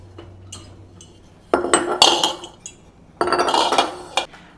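Glass quart canning jars clink and knock together in a home kitchen as they are set out and handled, several separate bursts of bright rattling with quiet gaps between them.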